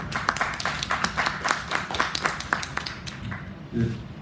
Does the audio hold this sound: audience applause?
yes